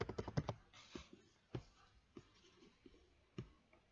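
Keys on a computer keyboard tapped while labelling a map in mapping software: a quick burst of several close, crisp clicks, then scattered single keystrokes in a quiet room.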